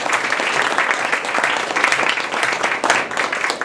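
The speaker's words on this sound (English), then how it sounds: "Let's give one last round of applause." A full round of applause from the audience at a university speech competition, dense continuous clapping with slight swells, loud and close, no talking over it.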